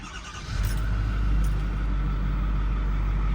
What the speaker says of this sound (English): We'll listen to this diesel fire up.